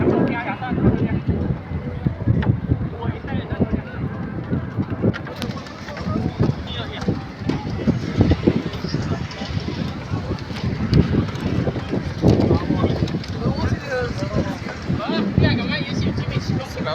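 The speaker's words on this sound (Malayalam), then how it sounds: "നല്ല കാറ്റുണ്ട് കേട്ടോ അവിടെ" Steady, heavy wind buffeting the microphone in a continuous low roar at the Ain Dubai giant observation wheel, with faint bird calls and occasional voices in the background.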